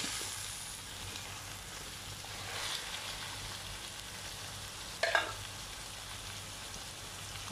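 Chicken added to a pan of fried rice sizzles and fries steadily, with a brief stirring clatter partway through and no talk.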